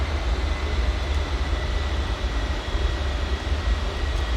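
Avro Vulcan bomber jet engines throttled back to about 70% for a descent in a JustFlight simulator, a steady deep rumbling roar, loud and continuous, with no talk.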